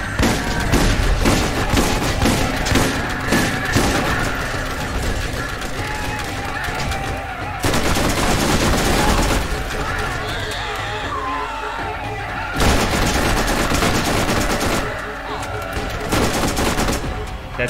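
Heavy, sustained gunfire from the video game Borderlands, with rapid bursts and booming shots, loud and near. Fire comes in dense waves with brief lulls, and someone talks over parts of it.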